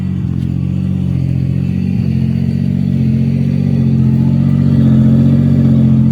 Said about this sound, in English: this one got like a real high idle